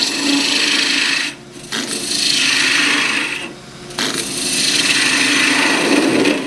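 A skew chisel shaves a turning wooden scoop handle on a lathe, making a steady hissing, rasping cut in three long passes with brief breaks between them.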